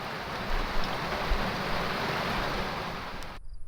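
Dense, steady hiss of heavy rain pouring down close by, a constant wash of noise with a few low thumps, ending abruptly.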